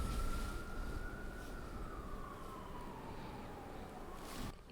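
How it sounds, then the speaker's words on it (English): A faint, distant siren wail drifts slowly downward in pitch over a dull, rumbling background hum. "More sirens."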